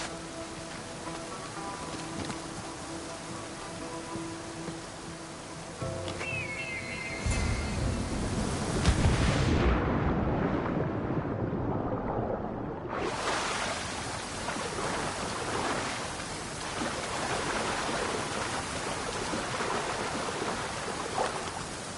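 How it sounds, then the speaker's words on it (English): Rushing waterfall in Assassin's Creed Odyssey, a broad steady roar of falling water that surges louder midway and briefly drops out before returning at full strength. "This is the waterfall."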